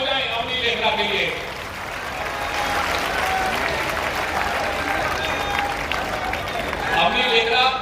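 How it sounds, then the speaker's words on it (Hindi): A crowd at a public event in Meerut gives hearty applause for a gold-medal-winning rifle shooter, a full, continuous clapping wash with brief voices and a few whistles rising near the start and end. "तो डबल तालियां हो जाए"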